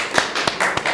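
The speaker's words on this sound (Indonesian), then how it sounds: "Tepuk tangan untuk kelompok" A small group claps for a team at a gathering: a brief, uneven handful of sharp, close claps over about a second.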